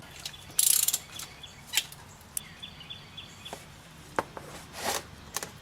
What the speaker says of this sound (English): And I'm gonna use the 3-inch ratchet.